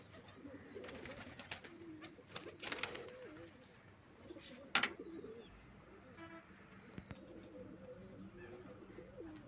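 Pigeons at a rooftop pigeon-flying session: faint, scattered bird calls and flutter-like bursts over a low background hum, with soft distant voices mixed in and one sharper close burst midway.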